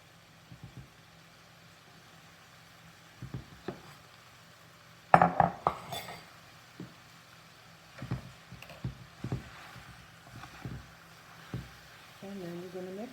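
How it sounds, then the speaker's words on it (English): A spoon scrapes and taps against a pan while ground meat for a gluten-free American chop suey is crumbled and stirred, in scattered close clinks and scrapes, with a voice speaking intermittently. "you're going to crumble it because, you know, you're moving it with the spoon"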